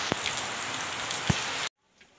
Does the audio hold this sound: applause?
no